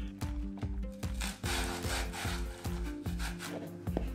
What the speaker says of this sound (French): Notre potimarron, on lui retire ses graines, on le découpe et puis on va venir le râper.